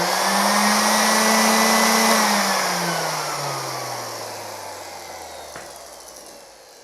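A cheap paddle sander with no brake, switched on at full power, screams loudly and steadily up close, then its whine slowly sinks in pitch and fades as the motor winds down.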